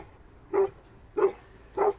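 A 10-month-old female Kangal dog barks three times at a steady interval of about two-thirds of a second, each bark loud, short and close, with a quiet background between them.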